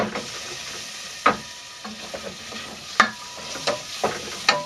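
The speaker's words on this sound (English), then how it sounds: "you just sprinkle that on top of your hot oil there. Get it stirred in." Turmeric sprinkled over hot oil and onions is stirred in a single pan, giving a steady bright sizzle with repeated knocks and scrapes of the spoon against the pan.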